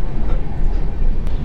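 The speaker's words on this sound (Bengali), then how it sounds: "ট্রেন এখন কাশী স্টেশনের মধ্যে ক্রস করছে।" The 13168 Kolkata Express passing through Kashi station, a loud steady rumble and rattle of the running train heard from inside a coach, with no break in the noise.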